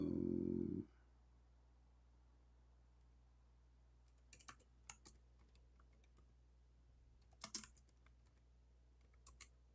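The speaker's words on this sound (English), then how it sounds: "I'm typing English in the Arabic." A computer keyboard clicks softly in scattered short bursts of keystrokes, faint and close, after a brief low hum at the start.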